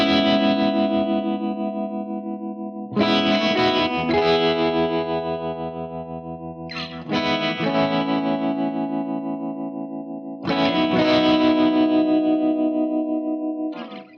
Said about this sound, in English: if I wanted to do something, say just something really, tremolo-y, just like, nice big chords